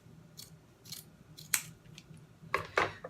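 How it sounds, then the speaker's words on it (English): Scissors cutting through burlap make several crisp snips at an irregular pace, close and moderately loud over a quiet background. "I'm going to cut off some of the burlap"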